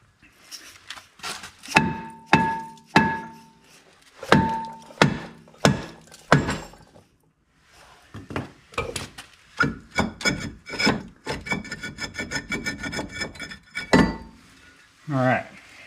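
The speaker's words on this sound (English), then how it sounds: "a few good whacks of a hammer and it comes off fine" Hammer blows knock a seized wheel hub off its axle during a wheel bearing replacement: sharp, loud, close metallic strikes in uneven bursts, some ringing briefly, with a clattering flurry of smaller knocks in the middle and no talk.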